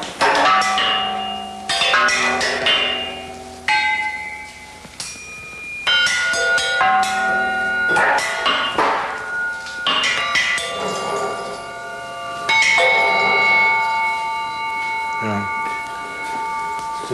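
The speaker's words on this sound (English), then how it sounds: "it's just a rattling configuration of metal." Clanging, ringing strikes from a rattling metal contraption played as an instrument, a dense run of bell-like metallic hits and resonant tones lasting throughout, fairly loud and close.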